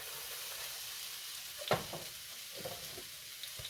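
White onion, tomatillo and jalapeno sauté in a pan, giving a soft, even sizzle with a few louder crackles and stirring scrapes near the middle, fairly quiet and without talk.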